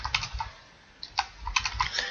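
Typing on a computer keyboard while entering database object details, bursts of quick close key clicks separated by a short pause, no talk.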